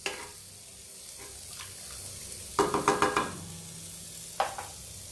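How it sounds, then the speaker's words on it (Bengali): Chicken fries in a pan with low oil, giving a gentle sizzle broken by several quick clattering scrapes and stirs, close and moderately loud. "এদিকে আমার চিকেনগুলো ফ্রাই হয়ে গেছে"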